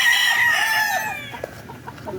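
One long rooster crow fades out, followed by scattered soft clucks close by, among broodcock and hens kept for breeding.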